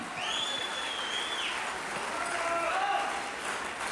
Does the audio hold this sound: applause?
yes